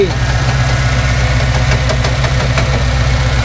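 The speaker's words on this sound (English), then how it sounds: "It's got it, got it running here." Early Ford Bronco engine running on an MSD ignition, a loud close idle with a steady low rumble and rhythmic knocking pulses, continuous without talk.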